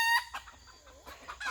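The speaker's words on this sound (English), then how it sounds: "Chickens." Farm chickens cluck and squawk close by in a brief burst of sharp, overlapping calls, loud at the start and end with a softer stretch between, and no talking.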